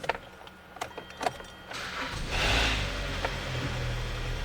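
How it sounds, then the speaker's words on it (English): A Hyundai car engine cranks and catches after a few faint clicks and rattles, then settles into a low steady idle close by. "Let's start the engine."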